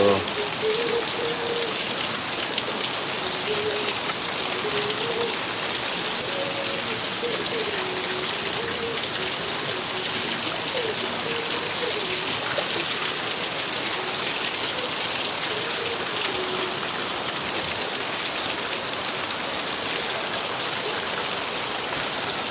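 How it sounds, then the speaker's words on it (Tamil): Heavy rain pouring down outdoors, a dense, even hiss of countless drops striking surfaces, loud and continuous throughout with faint murmuring voices far in the background. "நல்ல மழை அடிக்குது நல்ல மழை அடிக்குது"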